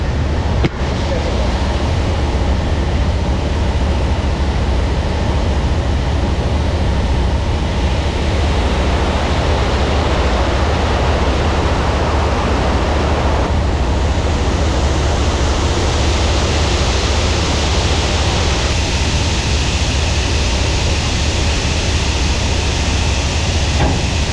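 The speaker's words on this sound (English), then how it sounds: "Dump my air in both truck and trailer so I don't kill the bags." A truck and trailer dumping their air suspension, a loud continuous hissing rush of escaping air that stays steady and close for the whole stretch with slight shifts in tone.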